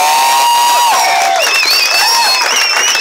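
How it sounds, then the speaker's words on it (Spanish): An audience at a motorcycle event applauds and cheers for women riders, steady clapping and crowd noise filling the space while an amplified voice carries over it. "Un aplauso para todas ellas porque son las guerreras"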